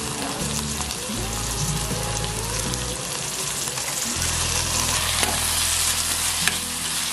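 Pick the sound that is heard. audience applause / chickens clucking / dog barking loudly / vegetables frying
vegetables frying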